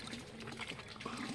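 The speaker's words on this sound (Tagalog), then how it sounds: "Bawas natin ng tubig." Water drains and trickles steadily from a basin holding large catfish and tilapia, a faint, continuous liquid pour with no clear talk over it.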